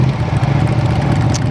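Ducati 959 Panigale motorcycle engine cruising in first gear, a steady low drone with a constant hum and no talk, loud and close throughout.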